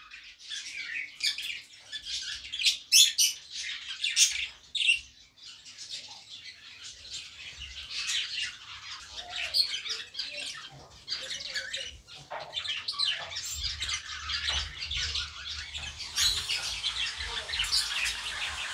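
Pet budgerigars, a mother bird with her chicks, chirp and squawk in rapid, overlapping bursts close by, a busy, uneven chatter that carries on throughout.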